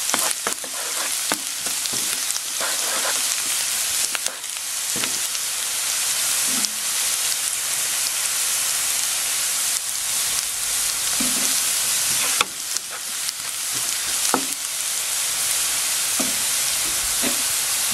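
Onions frying in hot oil with garlic in a pan for oyster adobo, a steady close sizzle throughout with occasional stirring clicks and scrapes.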